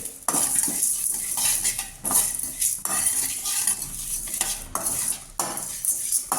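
A spoon scrapes and stirs dry urad dal, chana dal and fenugreek seeds roasting in a metal pan, a continuous close gritty rattle with soft sizzle underneath and brief pauses between strokes.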